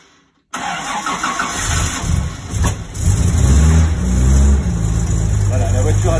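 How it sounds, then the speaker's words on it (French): An old car fitted with three carburettors cranks, catches and settles into a loud, steady idle close by, its engine note swelling and thickening as it runs. "Voilà, la voiture a démarré"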